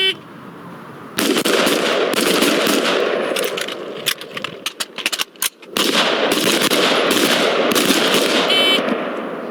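Rifles firing during state trooper firearms training on a range, loud rapid shots in dense overlapping volleys that run almost continuously, with a brief break in the middle.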